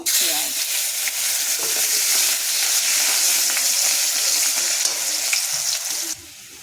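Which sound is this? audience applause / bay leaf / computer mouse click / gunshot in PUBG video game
bay leaf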